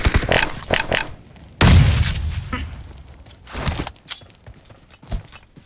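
Loud PUBG Mobile grenade explosions burst out, a sharp heavy blast near the middle trailing into rumbling debris, with smaller pops and shots before and after.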